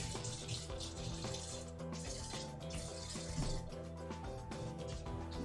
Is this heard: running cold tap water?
yes